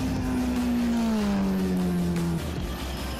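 A Kawasaki Z800 motorcycle engine whines on a race track in Karachi, a loud, sustained tone gliding gradually lower over a few seconds before cutting to a rougher background rumble.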